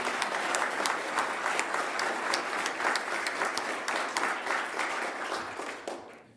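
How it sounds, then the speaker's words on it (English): Steady round of applause from an audience at a mayor's New Year's levee for town staff, many hands clapping densely and evenly before fading out at the end. "Let's give them a big round of applause for all they've done"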